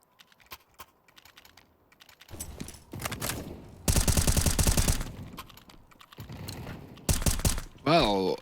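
An M4A1-S suppressed rifle spam-fires across range on CS:GO's Nuke map during a pro match, as clusters of quick, muted clicking shots with one dense sustained burst and other scattered taps, with a voice briefly heard near the end.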